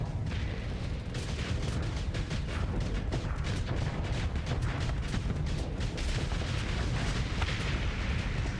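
In the space combat game Starsector, missiles and torpedoes detonate in a quick series of booming blasts and crackling impacts over a continuous low rumble, with irregular bursts throughout and no speech.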